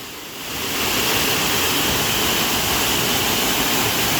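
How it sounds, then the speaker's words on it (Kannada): A waterfall pours in an unbroken roar of rushing water, swelling up over the first second and then holding steady, loud and close with no voices. "ನೀರಂತಿ ಸಣ್ಣಗೆ ಹರಿಯಾತೈತಿ"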